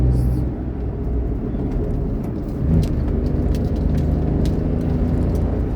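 A Maruti Suzuki Alto K10 accelerates in fourth gear with a loud, steady engine drone and road rumble throughout, swelling briefly midway, while birds coo faintly in the background.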